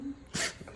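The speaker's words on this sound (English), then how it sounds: "Sneezes." A bull terrier puppy gives one sharp, close sneeze, a short burst after a quiet moment, with a faint snuffle just after.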